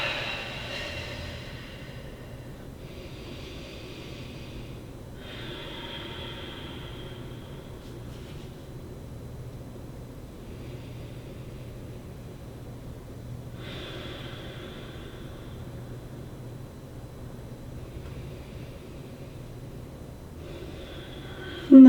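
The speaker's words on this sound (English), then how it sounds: "Take a couple of breaths here." Slow, deep breaths taken while lying back on a ball under the ribcage during a roll-out exercise, soft drawn-out inhales and exhales repeating every few seconds over a quiet background.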